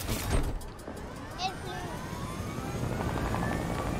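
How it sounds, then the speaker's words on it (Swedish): Helicopter in Fortnite, a steady rotor whir lasting throughout at moderate loudness, mixed with game sounds and a voice speaking. "Helikoptern är ju kvar ju."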